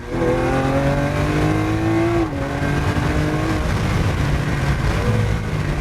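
A loud, close 2016 Lamborghini Aventador Roadster engine revs and climbs through the gears, pitch rising, dipping at a shift, then pulling hard again.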